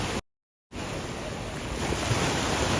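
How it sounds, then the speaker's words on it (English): Ocean waves break and wash steadily onto Waikiki Beach, a loud continuous roar of surf mixed with wind noise on the microphone, following a brief dropout at the start. "It's such a beautiful sight with the nature and the sea and the sky all meeting to make these waves."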